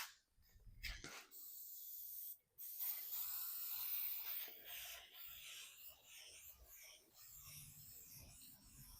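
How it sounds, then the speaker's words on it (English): Clear coat sprays from an aerosol can in several bursts of hissing spray, with brief pauses and a rattling click between them, fairly faint and close. "I'm going to spray that all in with some crayon clear coat"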